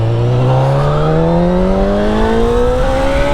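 A 2022 Honda CB1000R inline-four motorcycle engine winds steadily upward in pitch under acceleration, a loud, smooth, close rising howl with no voices.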